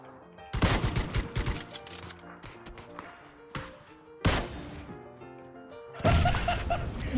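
Gunfire in the battle royale game PUBG: a burst of rapid shots, a few isolated cracks, then another sharp burst and a final volley, loud and close over quieter game sounds.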